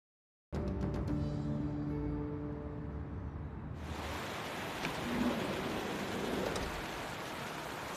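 Steady rainfall outdoors, a continuous hiss of drops on surfaces that swells suddenly and stays heavy, with a low rumble like distant thunder underneath and no talking.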